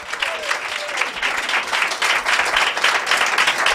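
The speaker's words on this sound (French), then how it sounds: "j'ai envie que vous applaudissiez très fort, très très fort, Lucille Delanne." A comedy club audience applauds a stand-up comedian as she is introduced, a dense, steady wash of clapping that holds strong throughout, with some crowd voices mixed in.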